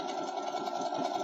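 A sewing machine zigzag-stitches crochet onto fabric, giving a steady, moderately quiet mechanical whir with an even rapid pulse throughout.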